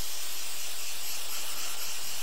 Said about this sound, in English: I just take a little bit of silicone spray, spray it onto my cloth